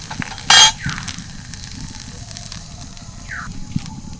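Puffed rice and carrot batter snacks frying in oil outdoors, a soft continuous sizzle with a brief loud hiss near the start and faint light taps, close and unaccompanied by speech.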